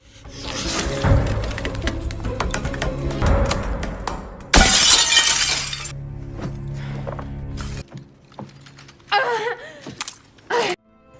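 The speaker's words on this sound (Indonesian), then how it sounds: "Setelah kaca pecah" A window pane shatters in a burst of breaking glass after being heated with a soldering iron and sprayed with water, with loud crashing and scattered tinkling shards, footsteps and rustling before, and sharp clinks trailing after.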